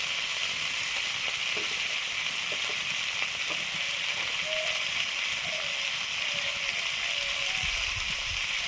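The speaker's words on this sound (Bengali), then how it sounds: "ঝোল ফুটে গেছে" Fish jhol (curry) boiling in a pot: a steady bubbling simmer with a constant hiss, faint gurgles and a few soft clinks, under quiet background talk.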